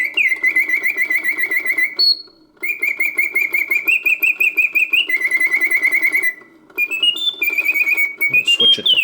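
A vintage Karl Griesbaum singing bird cage automaton running in continuous mode, giving loud, close, unbroken whistled trills and warbling chirps with only brief gaps between phrases and a rising flourish near the end.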